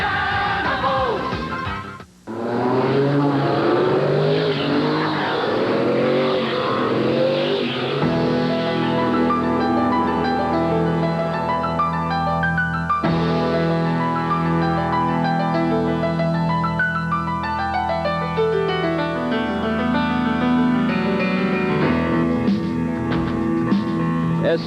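Oldsmobile Quad 4 engine in an SCCA race car on the road course at Road Atlanta, droning loudly and steadily through rising and falling gear sweeps as the car accelerates and shifts.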